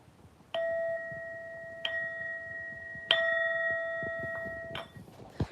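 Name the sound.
bell chime for a viewer entering the stream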